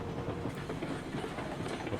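A train rolls along the tracks in the video game Railroads Online, a steady rumbling clatter with rhythmic clickety-clack at a constant loud level, no voices.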